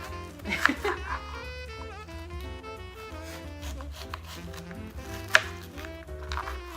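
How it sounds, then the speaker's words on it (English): A knife chops tomatoes for a salad on a cutting board, making soft, irregular taps with two sharper knocks, partly buried under steady music. "I think I want to chop it up a little bit more."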